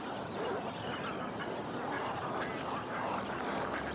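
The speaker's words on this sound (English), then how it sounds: "Freckled Duck" Freckled duck calls, a wild Australian waterfowl, sound as soft repeated notes against a steady, noisy outdoor background, continuing through the stretch without pause.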